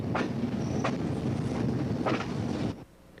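A train rolls along rails on the old U&D line, rumbling continuously with periodic clacking surges before dropping off abruptly near the end, with some wind buffeting the microphone.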